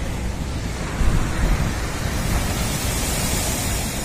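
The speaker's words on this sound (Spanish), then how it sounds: "Ahí viene una ola. Vamos a ver si impacta o no impacta." Large ocean waves break and surge along the Mar del Plata shore in heavy swell, forming a dense, continuous roar. Wind rumble from the microphone mixes in, and a heavier crash swells up about a second in.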